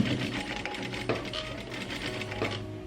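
A sewing machine runs steadily while stitching a seam on a long flared godet bustier dress, with a continuous mechanical whir and small periodic clicks and thumps, close up and moderately loud.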